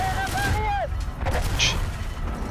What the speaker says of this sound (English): I realised I could just drop artillery